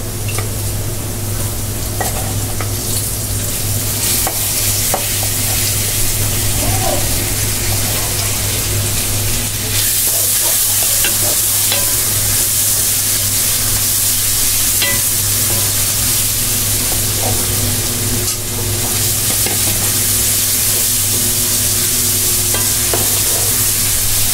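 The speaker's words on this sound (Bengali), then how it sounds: "চিংড়ি মাছ কিংবা যে কোনো শাক একটু 2-3 মিনিট ভেজে নেবেন" Shrimp fry in a pan for a greens dish, making a loud, continuous sizzle and hiss that runs steadily throughout with occasional stirring scrapes.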